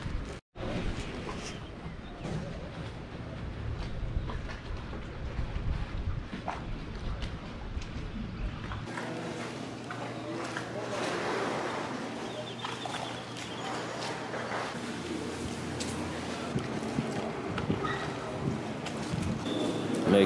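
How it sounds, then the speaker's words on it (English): Continuous boat engine drone and rushing wind on a water taxi ride from Belize City to San Pedro, with faint bird calls and a brief change in engine tone midway. "We are in Belize City at the water taxi, headed to San Pedro."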